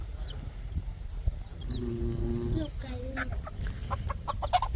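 A hen and her chicks clucking and peeping nearby in short repeated calls, with a person talking in the background.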